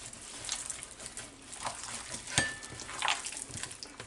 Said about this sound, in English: put my hand down this stuff and mix it all up like that